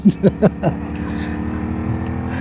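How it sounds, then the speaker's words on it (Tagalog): A motorcycle engine drones with a steady labouring tone while climbing a sharp curve on a ride from Cavite to Dingalan, opening with several loud rhythmic revving pulses before settling into a continuous strained hum. "Eh, di makaakyat yung motor ni Brian"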